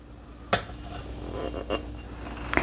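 Sugar being stirred into cooled melted chocolate in a bowl for a brownie bottom cheesecake, with a few sharp spoon clinks against the bowl and soft scraping in between, close and fairly quiet.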